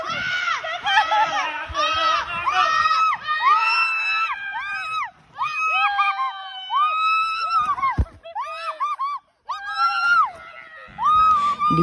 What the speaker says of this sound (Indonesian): Lihat kan kakak jerit-jerit.